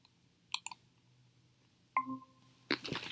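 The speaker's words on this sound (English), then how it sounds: "If you go back here and click admit" A single sharp mouse click sounds on a computer as a student is admitted into a Google Meet class, brief and clear against near silence, with a soft chime and further clatter following.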